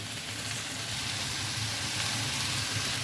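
Steady sizzling of chopped water spinach greens and small diced potatoes dropped into oil with browned onions, a continuous dense frying hiss with a low hum beneath, no voices.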